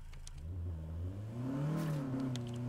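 A monster truck engine revs in the Saints Row video game, a low droning rumble rising in pitch and swelling midway before easing slightly, heard alone without talk.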